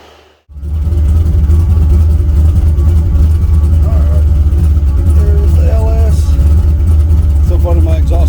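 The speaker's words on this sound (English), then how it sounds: "my exhaust has a chirp like a big block" A big LS-swapped V8 engine rumbles loudly and steadily after a quick start, its deep exhaust note, with a big-block-like chirp, holding with slight revving changes throughout.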